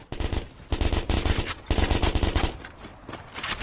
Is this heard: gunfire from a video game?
yes